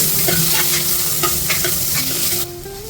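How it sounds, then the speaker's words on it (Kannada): Ginger garlic paste being stirred and sizzling in a pan with green chilli, a steady loud frying hiss with repeated scraping stir strokes, while cooking ghee rice. "ಆಮೇಲೆ ನಾವು ಜಿಂಜರ್ ಗಾರ್ಲಿಕ್ ಪೇಸ್ಟ್ ಹಾಕಬೇಕು. ಚೆನ್ನಾಗಿ ಒಂದು ಮಿಕ್ಸ್ ಕೊಡಬೇಕು."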